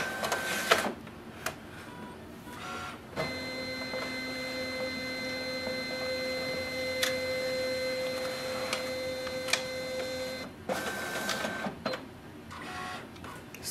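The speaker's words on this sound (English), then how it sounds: "So this will start the scanning automatically." A Brother MFC-L2820dw laser printer scans a document with a steady mechanical whir and a sustained motor tone lasting about seven seconds, bracketed by clicks and clunks from the scanner carriage starting and stopping, close and moderately loud.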